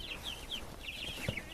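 Meat birds and laying hens in a coop make faint, soft chirps and clucks in a quiet string, with a brief low thump near the end.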